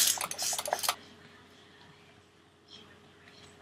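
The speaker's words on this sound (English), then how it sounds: "And then I'm just going to mix it. I'm just going to mix." A brush stirs water into white paint in a container, giving a close burst of scraping, clinking strokes for about a second, followed by quiet room tone with faint taps.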